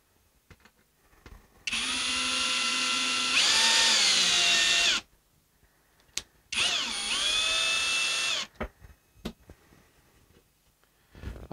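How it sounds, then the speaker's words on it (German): A power drill drives screws into wood in two loud whirring bursts, the motor pitch dropping as each screw bites, with quiet handling clicks and taps between and after. "Das ist jetzt also meine erste Verschraubung"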